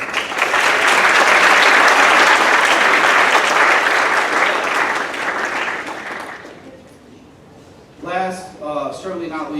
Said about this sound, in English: you owe your parents, your grandparents, your guardians a big round of applause